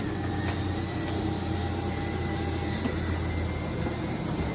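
Slide-out room of a Conquest 6245 motorhome extending, heard as a steady, continuous motor drone and mechanical hum at close range with no speech.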